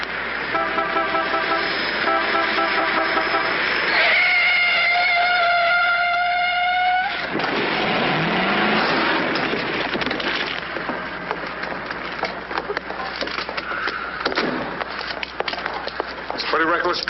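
A cartoon car careens along recklessly, honking its horn in repeated toots and a long blare, followed by engine rumble and scraping clatter as voices talk over the commotion.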